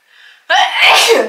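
A single loud, sharp sneeze sounds close up after a brief faint intake of breath, and there is no other sound around it.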